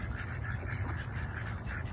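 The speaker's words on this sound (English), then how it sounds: "Look at the baby duck." Ducks quacking steadily at a park in a repeated, chattering rhythm, close by, with a low rumble of outdoor background noise underneath.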